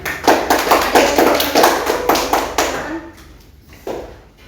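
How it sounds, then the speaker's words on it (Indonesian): In a classroom, a group of students claps in a brisk run of sharp, close hand claps for about three seconds. The clapping then thins to a few stray claps and stops. "Iya, tepuk tangan."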